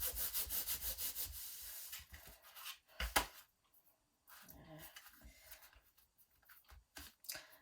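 A hand rubs firmly over a glued card panel to press it down on a stamped birthday card, making soft, close, rhythmic brushing strokes that come in bursts between quiet pauses.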